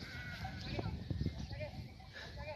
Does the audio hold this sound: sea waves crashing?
no